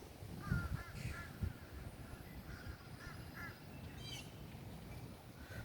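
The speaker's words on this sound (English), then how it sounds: "Little birdies have something to say." Crows and other birds caw and call at a distance on an overcast Florida morning, with scattered calls rising over a quiet background of breeze.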